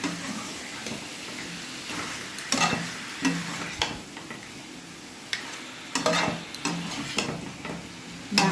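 Lemon-and-salt marinated chicken fries over a high-to-medium gas flame, with a steady soft sizzle broken by repeated scrapes and clinks of a spatula stirring in the pan.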